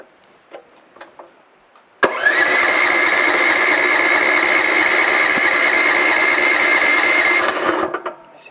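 Mygale 500 mini excavator with a worn-out spark plug: a few faint knocks, then a sudden loud steady mechanical whir that cuts in, holds evenly for about six seconds and winds down without the engine catching.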